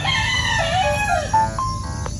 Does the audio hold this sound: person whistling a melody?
no